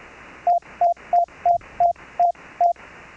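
A two-tone Morse code keyer signal, seven short electronic beeps in an even rhythm over a steady background hiss, clear and close.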